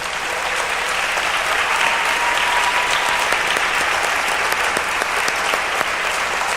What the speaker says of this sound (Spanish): Damos una ofrenda de palmas al Señor por sus vidas.